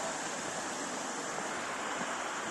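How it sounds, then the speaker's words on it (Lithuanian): Water runs steadily out of a monastery channel, giving a constant, broad rushing wash that stays even and fairly close throughout, with no voices. "Bėga vanduo iš vienuolyno"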